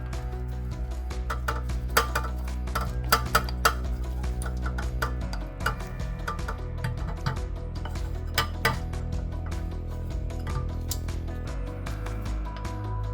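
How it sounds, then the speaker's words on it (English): A spoon stirs melted chocolate into brownie cookie batter in a bowl, giving scattered light clinks and taps against the dish over a steady background hum, with no talking. "Next, add the melted chocolate and give it a good stir."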